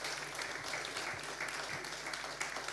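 A church congregation applauds in steady, dense clapping, fairly faint and distant, sustained without a break.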